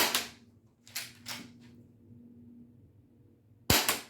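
Nerf-style 1911 toy pistol firing foam darts at a target from five feet, sharp plastic snaps in an irregular cluster with brief gaps between shots and a faint hum beneath, heard up close.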